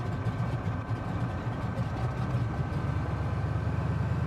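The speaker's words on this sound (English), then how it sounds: "Right engine successfully going." The right piston engine of a Grumman Widgeon amphibian idles steadily just after starting, a continuous low rumbling drone with an even throb, heard close and without talk.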